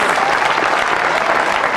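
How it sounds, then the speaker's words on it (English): Audience applause for the college captain at a La Martiniere College prize day in Lucknow, a loud, dense, even wall of clapping from a large crowd, sustained throughout with no pauses. "So please give our college captain a very warm round of applause"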